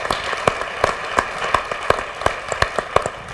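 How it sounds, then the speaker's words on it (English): A small group of audience members at a community collaborative panel claps in an even, rhythmic beat, about three claps a second, distinct over a quiet room background. "How about another round of applause for everyone?"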